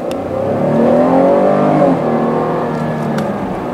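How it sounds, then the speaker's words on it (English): A 2020 Chevrolet Blazer 2LT accelerates hard, its engine droning loudly and rising steadily in pitch from inside the cabin, with no talk. "very precise response for the throttle, and it gets going very quickly and nicely"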